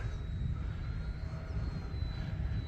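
An E-flite P-47 Razorback electric RC model airplane flies overhead after takeoff, its motor giving a steady whining drone that stays constant and moderately distant, heard alone without talk.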